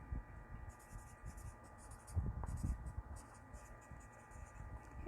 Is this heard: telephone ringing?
no